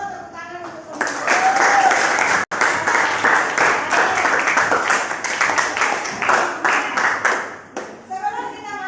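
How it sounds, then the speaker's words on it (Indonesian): Classroom applause for all the student groups, a sustained burst of many hands clapping that follows a teacher's voice, briefly cuts out, then resumes and fades as talking returns. "tepuk tangan untuk semua kelompok"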